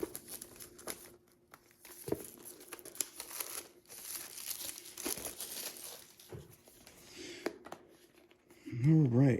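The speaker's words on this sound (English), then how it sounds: "It's so satisfying taking plastic wrap off." Plastic wrap being pulled off the packaging of an RC motor and ESC for an LMT build: intermittent close crinkling and tearing rustles at low level, with a brief voice near the end.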